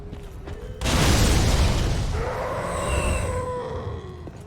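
A huge explosion in Elden Ring bursts in with a loud, deep boom and roar, then rumbles on with a long, fading howl; no voices.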